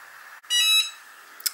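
A Cricut MugPress mug heat press gives a short, loud electronic beep signaling the mug is ready, with a faint tone after it.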